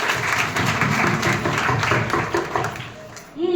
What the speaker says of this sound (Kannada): ಹಾ, ಚಪ್ಪಾಳೆ ಚಪ್ಪಾಳೆ